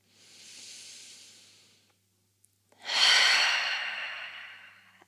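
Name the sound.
deep breath in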